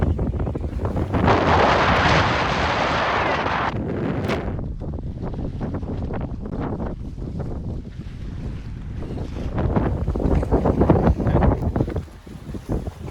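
Strong wind roars steadily around a sailboat at sea, running under a double-reefed main in about 20 knots on an ocean passage from Hawaii to French Polynesia. Loud, continuous gusting rush with water sloshing and the occasional flap, and no talk.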